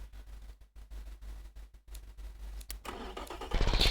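Diesel four-cylinder engine in an Automation and BeamNG driving game, rhythmic chugging cranking pulses that catch and fire up into a louder, rough rumbling idle near the end, heard close up.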